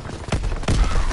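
Gunfire in a World War II video game deathmatch, two sharp loud bursts of shots about a third of a second apart, close and punchy over a busy battle background.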